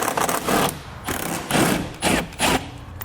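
A 10mm socket on a ratchet or power tool backs bolts out of the bumper of a 2019 Toyota Highlander, giving close, repeated short bursts of mechanical whirring and rattling with brief pauses between them.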